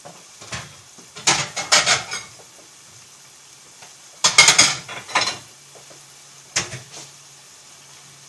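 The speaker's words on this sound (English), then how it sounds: "Let me grab a plate." Ceramic plate picked up and set down on a kitchen counter while garlic shrimp with red peppers and spinach is plated, giving a few short clattering bursts and scrapes separated by quiet pauses, close and moderately loud.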